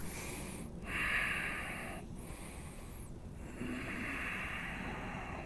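A yoga practitioner holds warrior two pose during a strong flow class, breathing deeply. Steady, close, airy breaths rise and fall in a slow rhythm with brief pauses and no talking.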